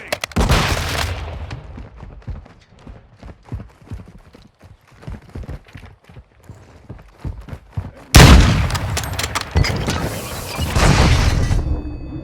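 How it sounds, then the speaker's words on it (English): A flash grenade goes off in the Modern Warfare 2 video game: a loud sudden blast cuts in over a run of rapid hoof-like footsteps and scattered gunfire, followed by sustained noisy combat. "Throwing flash grenade!"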